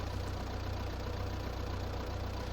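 A tractor engine in the video game Farming Simulator 22 drones at a steady low idle, a continuous rhythmic mechanical hum with no voices.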